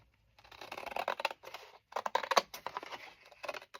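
Scissors snip through paper pages of a wire-bound journal in quick bursts of crisp cutting and rustling, separated by brief pauses, faint and close.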